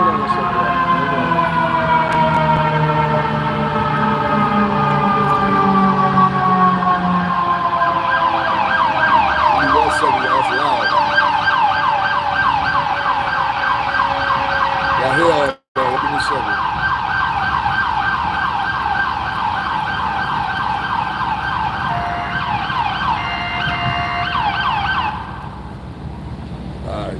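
Several fire engine sirens wail loudly and continuously outside a courthouse, overlapping rising and falling tones as the fire department arrives, with a brief dropout midway and the sirens fading slightly near the end.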